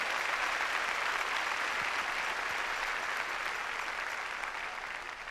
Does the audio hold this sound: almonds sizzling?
no